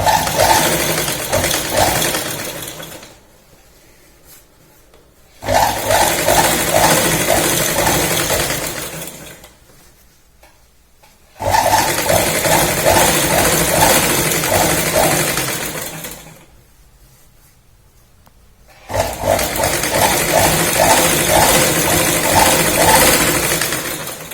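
A sewing machine stitching a salwar, three long bursts of fast steady mechanical whirring and needle clatter separated by quiet pauses, close and loud with no talk.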